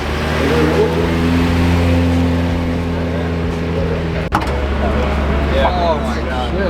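A rotary engine in a Mazda Miata at a Miata car show idles loudly with a steady low drone, then revs briefly; nearby voices can be heard in the crowd.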